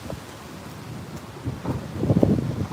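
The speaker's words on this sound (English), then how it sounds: "It's windy today." Wind gusting on an outdoor walk, a low rumbling buffet against the microphone that swells louder toward the end, with no one talking.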